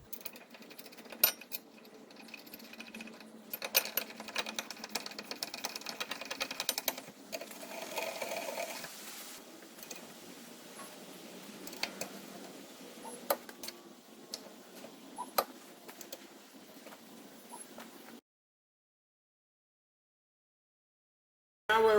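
A rear brake caliper carrier is bolted back onto a Focus RS mk3, heard as a long run of close, fast mechanical ticking and rattling clicks that stops abruptly, followed by silence.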